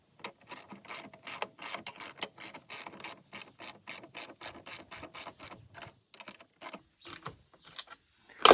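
A ratchet wrench tightens a lock bolt nut on a trim mower, giving close, rapid runs of crisp clicks in short repeated bursts, with brief pauses between strokes and no talking.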